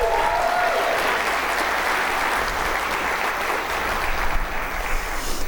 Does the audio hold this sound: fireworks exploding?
no